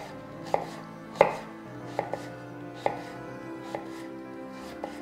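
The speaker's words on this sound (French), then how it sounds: "On va pouvoir commencer à émincer nos oignons." Onions being sliced with a knife on a board: a series of crisp, close chopping knocks at an uneven, unhurried pace, with quiet room tone between strokes and no talk.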